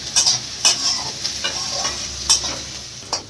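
Country chicken frying in a pan with a constant sizzle, broken by several sharp scrapes and clinks as a utensil stirs it, close and fairly loud without speech.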